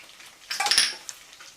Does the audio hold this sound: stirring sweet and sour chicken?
yes